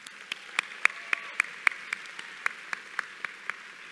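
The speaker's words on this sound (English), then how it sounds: "let's give a round of applause to your village" At a graduate school of education commencement, sparse, distinct claps ring out in a slow, regular rhythm, fairly quiet and somewhat distant over a hushed room.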